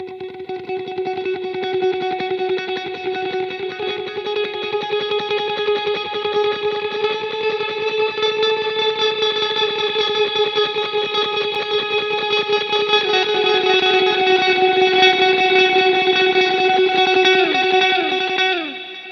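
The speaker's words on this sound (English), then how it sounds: "Here's a beautiful ambient sound I whipped up, and the dry amp cannot be muted." Ambient electric guitar through a wet/dry amp rig, the dry amp unmuted, with lush chorus, delay and reverb: sustained shimmering chords swell steadily and fill the space for nearly twenty seconds, loud and without talk.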